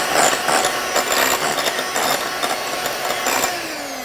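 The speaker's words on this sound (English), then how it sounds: "that's as low as my blender goes." Blender on its lowest speed whipping egg whites with dried egg white powder, a steady whirring motor hum with a slight rattle, close and constant.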